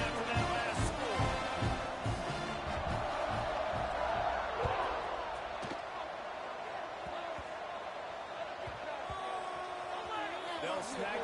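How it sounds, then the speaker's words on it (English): A college football stadium crowd at Nebraska vs SMU buzzing after a score, a dense, steady roar of many voices with scattered shouts and claps, heard from within the stands with no clear lulls. "this crowd is buzzing after that last score."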